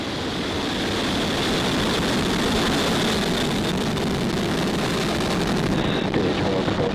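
A SpaceX Falcon 9 rocket roars at liftoff, a steady, dense broadband rumble heard from a distance that holds constant without a break.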